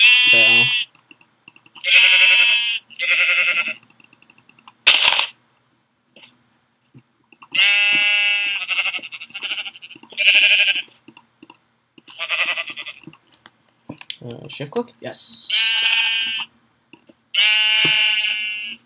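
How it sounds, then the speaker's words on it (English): Repeated bleating from sheep in the video game Minecraft, a series of short mid-pitched calls in quick bursts with brief pauses between them, fairly loud and close, with a few quiet words spoken among them. "Shut up, sheep."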